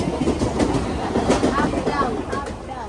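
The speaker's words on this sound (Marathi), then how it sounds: "बघा, एक लोकल चालले." A Mumbai-style local train passes nearby with steady rumbling and clickety-clack of wheels on rails, loud and continuous, while someone talks over it.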